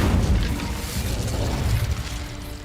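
Incendio fire spell cast in Hogwarts Legacy, a dense, rumbling whoosh of flame bursting loudly at the start and sustaining with crackling texture before slowly easing off.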